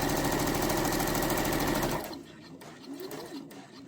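A sewing machine stitches fabric close by in a fast, steady mechanical whir for about two seconds, then stops, leaving quieter handling noises and a faint background.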